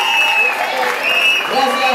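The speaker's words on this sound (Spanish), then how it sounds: "Un aplauso, por favor, a la señorita Esclavos Colmenares." Audience applause fills a talent show final results gala, a steady wash of clapping from a crowd, moderately loud and continuous, with a few faint tonal sounds mixed in.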